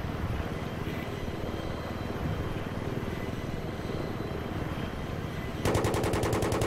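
Jet aircraft roaring past in Battlefield 3 multiplayer combat, a loud sustained engine rush over dense gunfire and helicopter rotor noise, ending in a sharp rhythmic chopping burst near the end.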